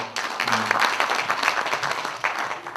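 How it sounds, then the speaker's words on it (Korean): Meeting attendees at a union delegates' assembly applaud to approve new accounting rules, a dense burst of clapping from a roomful of people that holds steady for a few seconds, fairly close and with no talk over it. "자, 박수로 의견해 주시겠습니까?"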